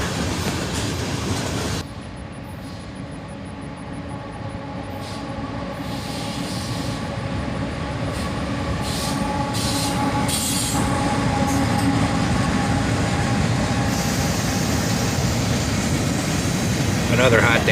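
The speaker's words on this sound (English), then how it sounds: "Norfolk Southern 4003, a DC to AC black bonnet, will lead this train across the river" Norfolk Southern 4003, a DC to AC black bonnet locomotive, leads a train past with a loud continuous roar of engine and rolling wagons, faint wheel squeal and clicking rail joints, close by throughout.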